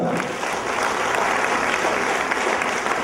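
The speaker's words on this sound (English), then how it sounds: "Can we please hear a big round of applause for Mehroz Khan sir?" A loud, dense round of applause from the audience at an entrepreneurship development program event, sustained clapping filling the whole stretch without speech.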